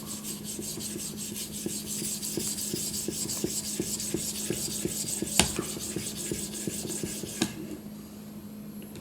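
Steady back-and-forth rasping of a knife blade drawn over an Edge Pro Apex sharpening stone, close and continuous with rhythmic strokes and a couple of sharper scrapes, no talking.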